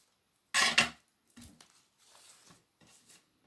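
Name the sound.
cutting the edges of a paper envelope craft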